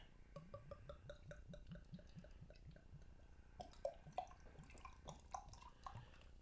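Goose Island Bourbon County beer poured aggressively into a glass in a quick rhythmic series of glugging gulps, then a brighter fizzing crackle as the pour ends, close and fairly quiet.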